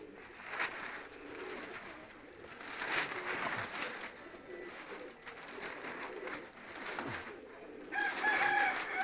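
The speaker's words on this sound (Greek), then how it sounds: "Τα πουλιά έχουν σκορπίσει, έχουν γεμίσει τη βροντού." Racing pigeons in a loft coo softly, with faint bursts of wing flapping and rustling scattered throughout at low volume.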